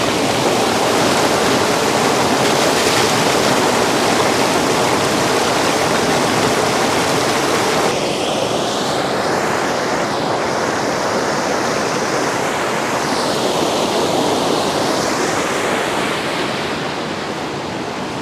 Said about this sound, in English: So hopefully you are able to hear the sound of the rapids. Here the flow is really fast.